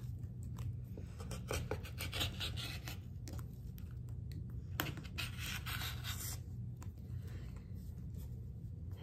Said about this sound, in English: So I'm going to take my rotary cutter and I'm going to cut like this.